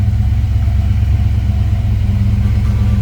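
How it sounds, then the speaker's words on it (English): V8 engine of a 1976 Pontiac Trans Am idling steadily after starting, a loud, deep, even throb with a slightly lumpy pulse, close and alone. "Let's go ahead and fire it up."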